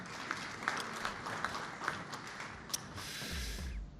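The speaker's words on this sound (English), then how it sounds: "A big round of applause for the runner-up" Applause at a banking awards ceremony for runner-up EcoBank, a moderate, steady ripple of clapping from a seated audience, with a few sharper claps standing out.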